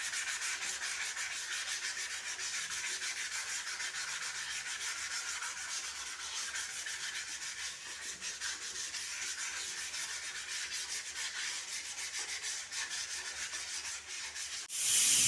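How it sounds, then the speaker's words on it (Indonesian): Continuous close rubbing of 500-grit sandpaper on forged carbon made from kevlar offcuts, an even hiss-like scrape with a gentle back-and-forth texture, no talking. "haluskan lagi menggunakan kertas amplas dengan grit 500."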